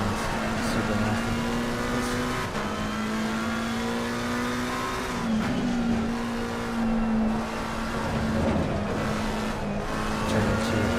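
A GT3 race car in the Assetto Corsa Competizione racing game, its engine droning and revving steadily with brief shifts and lifts through the gearbox, continuous and fairly close.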